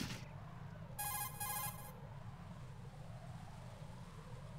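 A codec call ringing in Metal Gear Solid 2, a short electronic tone burst of about one second with a brief gap, over steady low game ambience and background noise.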